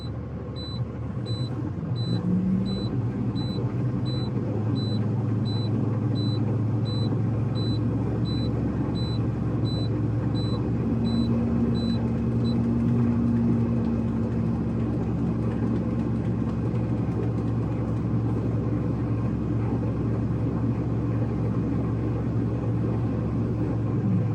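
Steady low diesel rumble of a truck engine idling to build air tank pressure during a pre-trip inspection, a continuous loud drone with a faint tonal hum, running alone for the whole span.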